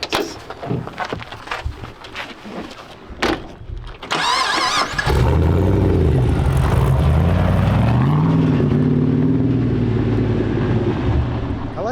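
A restored 1963 Toyota Land Cruiser FJ40 ICON build fires up after some clunks and handling noises, then its engine settles into a loud, steady drone with gear changes and rising revs while driving.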